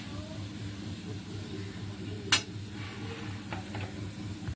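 Mango pieces fry in oil with mustard seeds, dried chilli and bay leaf, giving a faint, low sizzle with one sharp clatter midway and a few light scrapes near the end.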